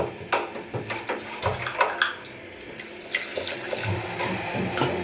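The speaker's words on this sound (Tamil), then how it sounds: "தண்ணி ஊற்றிக்கலாம்" Water splashes and pours into a metal cooker up close, with gurgling and a few knocks of the container, while cooking drumstick-leaf soup.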